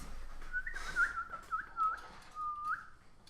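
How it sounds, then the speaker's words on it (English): Soft, distant whistling drifts through a quiet woodland ambience as a tabletop game sound effect: a few short, sliding whistled notes spaced across a few seconds, with no talking. "Then we hear whistling in the woods."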